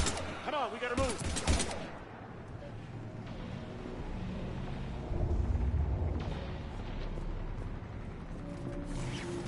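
Gunfire and explosive blasts in the video game Mass Effect Legendary Edition, a burst of sharp shots early, then rumbling combat noise under speaking voices.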